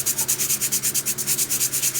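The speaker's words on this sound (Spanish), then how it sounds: "hasta que el último le damos con la lija más fina que pueda haber" Fine sandpaper scrapes a clay pot in quick, even back-and-forth strokes, about eight per second, close and loud with a hissing, gritty texture.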